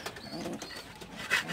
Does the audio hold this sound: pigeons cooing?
yes